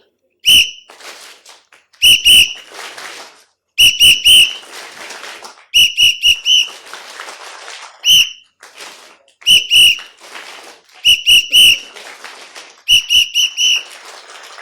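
Short sharp whistle blasts come in repeated groups, one, two or three at a time, each group followed by a pause and what sounds like clapping.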